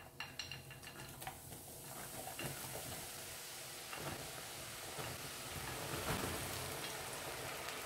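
Masala-coated peanuts fry in hot oil with a steady, continuous sizzle, and a few clinks of a utensil against the pan come near the start.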